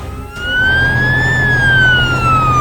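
An animated fire truck's siren wails loud and close in a single long rising and falling sweep. A low engine rumble runs underneath and no one speaks.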